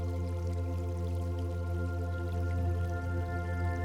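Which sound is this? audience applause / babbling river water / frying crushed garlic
babbling river water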